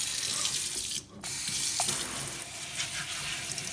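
Tap water runs steadily over hair during a final rinse at a sink, a continuous close hiss with one brief dip partway through, no talking.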